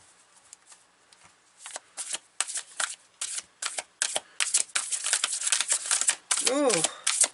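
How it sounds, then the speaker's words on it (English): Repeated riffling shuffles of a tarot card deck, crisp flutters in quick bursts growing louder, with a brief squeaky slide near the end. "The cards wouldn't shuffle anymore."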